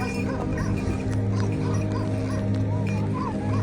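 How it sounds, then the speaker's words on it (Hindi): Repeated barking from a Kohistani dog some distance away on a mountain trek near Saral Lake, continuing in a steady rhythm over a rumbling outdoor background. "आवाज़ आ रही होगी उसके भौंकने की"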